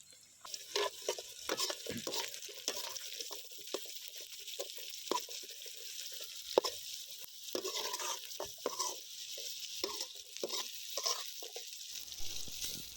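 Onions sauté in oil for dragon chicken, with a soft background sizzle broken by frequent scraping and clattering bursts as a spatula stirs the pan, close and irregular, pausing briefly near the end.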